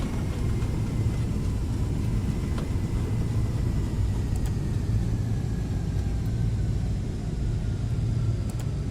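An airplane rolls out on the runway after landing, with a continuous low rumble of tires and engines and a faint whine slowly fading over it.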